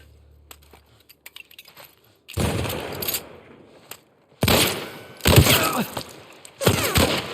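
Sharp bursts of gunfire from The Last of Us on PS5 crack out in several loud separate volleys with quiet gaps between, preceded by faint clicks and ticks.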